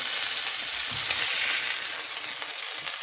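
Sea bream fillet frying in a pan, a steady broadband sizzle that stays even and close throughout, with no voices.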